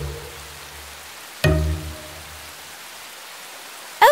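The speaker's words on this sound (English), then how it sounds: "The rain got heavier as they approached the Queen's castle." Heavy rainstorm in an animated Snow White fairy tale: a steady, dense hiss of rainfall with a sudden loud crash partway through and another burst at the very end, with no talking.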